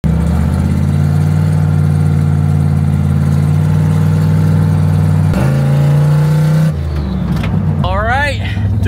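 A turbocharged 302 V8 in an SN95 car runs with a loud, steady low drone, rising briefly in pitch, then the note shifts as the car moves off while a voice speaks near the end.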